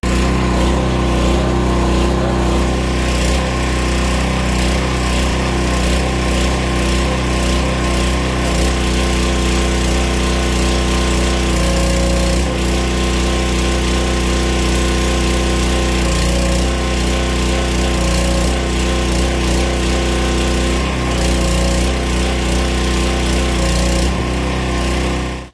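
A pressure washer sprays a car through a soap nozzle, producing a loud, constant engine-like drone with a steady hiss of spray that holds throughout with little change.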